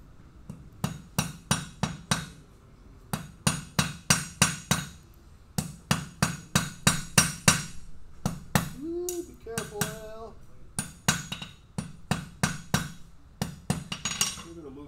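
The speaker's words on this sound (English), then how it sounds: "More comfortable with a smaller hammer, use a smaller hammer." A small hammer strikes metal in rapid ringing blows during a forge guild demonstration, the blows coming in quick bursts with short pauses and a voice speaking briefly in the middle.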